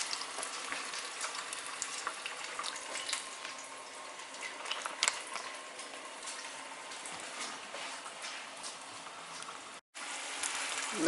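Chicken pieces frying in hot oil for Hooters-style wings, a steady dense crackle and sizzle up close that holds throughout with small pops, alone with no voices.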